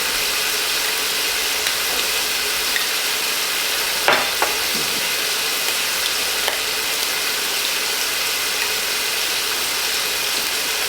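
Seasoned food with onion powder and garlic frying in a brand-new pan, a steady loud sizzle throughout with a few scraping stirs and utensil taps near the middle, no talking.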